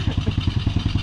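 Motorcycle engine running with a rapid, regular pulsing throb and some mechanical clatter, close and fairly loud, over about a second with no talk.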